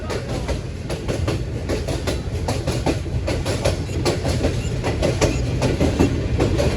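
The upgraded Hazara Express runs along the track between Lala Musa Junction and Phularwan, a loud continuous rumble with rhythmic clickety-clack of wheels over rail joints heard from aboard the train.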